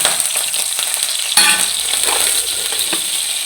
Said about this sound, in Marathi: छान असं फ्राय करून घ्यायची तेलापासून परतून घ्यायची